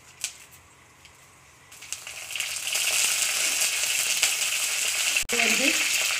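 Mustard and fenugreek seeds fry in hot oil with a steady, fairly loud sizzle that builds after a quiet start, punctuated by faint crackles and a brief scrape near the end.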